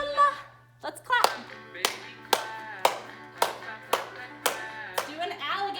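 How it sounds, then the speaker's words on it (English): Small children in a dance class clap their hands about ten times in a steady beat, sharp and fairly close. Brief voices come in at the start and near the end, and a low hum runs underneath. "Let's clap."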